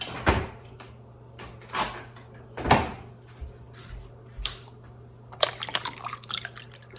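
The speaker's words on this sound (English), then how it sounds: "And then add a little bit more water." Water poured into a strawberry mint drink, a few short splashy pours and clinks spaced apart, then a quicker burst of small trickles and taps near the end, close and alone.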